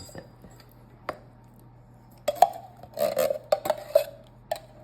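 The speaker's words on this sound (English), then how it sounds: "we're going to take a can of blueberry pie filling, and we're going to fold it into this cake mixture" A spoon folds canned blueberry pie filling into pound cake batter in a bowl, with soft scrapes and a cluster of light clinks against the bowl in the second half, fairly close and without talk.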